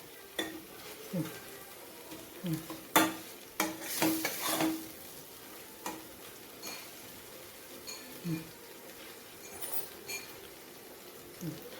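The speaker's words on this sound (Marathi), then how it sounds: "कांदा टोमॅटो पण व्यवस्थित शिजलेला आहे आणि त्याला पण थोडा आपण स्मॅश करून घेऊया" Cooked onion and tomato being mashed in a pan for pav bhaji, with soft, squelchy presses and clinks of a masher against the metal pan, repeated in an uneven rhythm close by, under a faint background sizzle.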